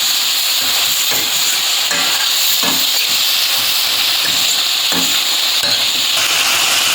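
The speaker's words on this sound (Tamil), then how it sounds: "தக்காளியை போட்டு நல்லா வதக்கலாம்." Steady sizzling and hissing of tomatoes frying in a pan, with occasional soft stirring clinks, continuous and close with no talking.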